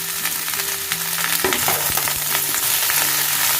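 Okra and eggplant fry in oil in a pan for a Bengali-style mixed winter vegetable dish, a loud continuous sizzle close by with a few stirring scrapes and clinks, and no talk.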